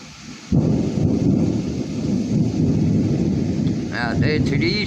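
Thunder rumbles through a rainy night storm, a loud deep roll breaking in suddenly and lingering over heavy steady rain, with a voice briefly talking near the end.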